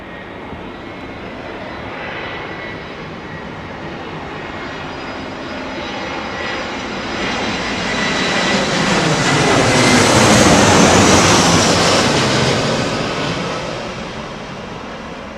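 Jet aircraft at Heathrow Airport in low pressure conditions, a broad engine roar that swells steadily to a loud peak near the middle-late part and then eases as the plane passes close by, with no talk.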